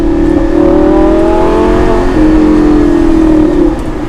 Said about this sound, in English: I don't think a V10 soundtrack would ever get old.